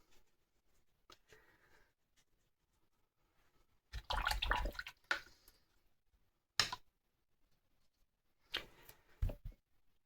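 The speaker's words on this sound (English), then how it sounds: "Rinse that brush out." A watercolour brush swishes and clinks in a water pot in a few separate close bursts, with quiet gaps and a small tap or drip between them.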